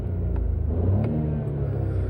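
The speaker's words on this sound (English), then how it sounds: "I'll give it a quick rev while we're zoomed in there." A 2020 Mini Cooper F55 with a 136-horsepower three-cylinder petrol engine is given a quick rev, a close, steady low thrum that rises slightly and holds, with no talk over it.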